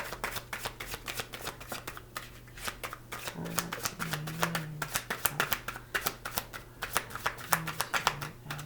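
Tarot cards shuffled by hand in a steady run of crisp riffling bursts and soft slaps, close and clear, with a low steady hum underneath and no talk.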